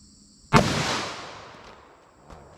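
A single loud, close .44 Magnum revolver shot fired into a block of clear ballistic gel behind four layers of denim, with a sharp crack and a long decaying echo, then a faint click.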